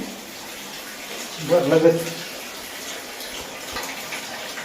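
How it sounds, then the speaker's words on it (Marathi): Hot water runs for a bath, a steady gushing flow heard close up, with a brief voice speaking partway through. "पाणी गरम गरम सोडलंय"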